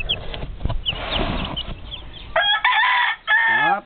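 Roundhead gamefowl roosters, including a pile roundhead cross, crow loudly and close by, with two long drawn-out crows near the end after some scratchy background rustling.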